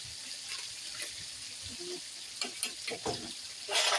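Vegetables hit a hot frying pan and sizzle steadily, with stirring clatters and short bursts of spattering oil, close and moderately loud, plus a brief water-like splash at the end.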